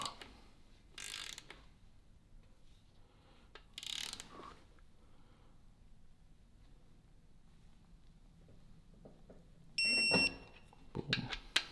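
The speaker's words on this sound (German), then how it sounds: "Ziehe ich die gleichmäßig bei. Ich baller jetzt nicht direkt eine voll fest." A ratchet tightening bolts evenly on a 1000 hp BMW 135i/335i engine build, with a few short clicking bursts separated by quiet pauses and light workshop noise.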